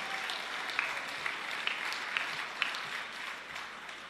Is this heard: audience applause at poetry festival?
yes